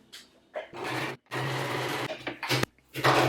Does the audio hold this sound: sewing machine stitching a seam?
yes